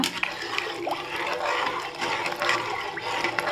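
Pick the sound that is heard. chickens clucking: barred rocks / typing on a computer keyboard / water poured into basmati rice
water poured into basmati rice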